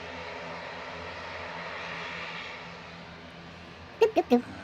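An ATR turboprop coming in to land at Manchester Airport gives a faint, distant, steady droning hum that fades slightly, followed by a few short loud knocks close by.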